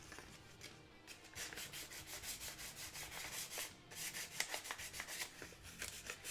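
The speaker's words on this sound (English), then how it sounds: "A bit more sanded." Hand sanding a part with sandpaper: a steady series of quick, dry back-and-forth scratching strokes, close and fairly quiet, with no talking.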